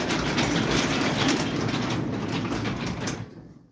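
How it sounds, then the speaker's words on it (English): Road traffic outside during a live wood-turning session, with a continuous broadband rumble of passing vehicles that fades away at the end. "So excuse the traffic noises and stuff that come along."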